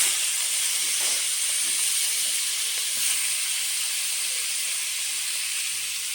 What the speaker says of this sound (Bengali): এখন কড়াইটা গরম হয়ে গেছে, মেখে রাখা মাছগুলো দিয়ে দেবো।